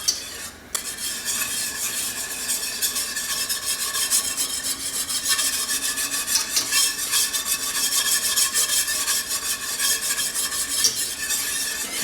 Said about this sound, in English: I do go pretty fast with my whisk